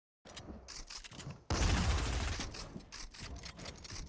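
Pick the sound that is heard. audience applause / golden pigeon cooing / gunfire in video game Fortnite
gunfire in video game Fortnite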